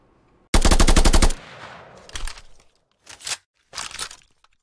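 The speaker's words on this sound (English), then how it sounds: "You might notice while firing that sometimes the SMG and the assault rifle stops making noise before we're done firing." An SMG fires in a Black Ops Zombies-style UE4 game, opening with a loud rapid burst of just under a second that cuts off abruptly, followed by a few short, quieter bursts with silence between them.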